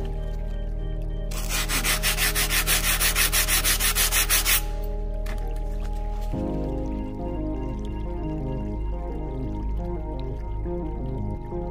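Sandpaper of 120 grit rubs back and forth on the edges of a subway tile in a short burst of rhythmic scratchy strokes. A steady low background hum continues throughout.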